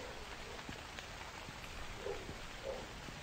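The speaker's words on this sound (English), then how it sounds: "They just love the rain" Rain falling in the video game Retail Simulator, set at a convenience store: a faint, steady patter of drops on a surface with soft scattered taps, heard alone.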